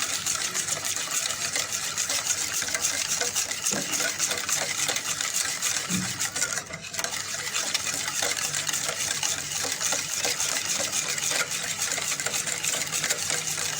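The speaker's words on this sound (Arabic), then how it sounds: "انا هفضل ادوب في السكر لحد ما اطمن ان هو السكر داب خالص" Sugar being stirred into melted Egyptian ghee in a pot, a steady scraping and swishing that runs unbroken for the whole stretch with no talk.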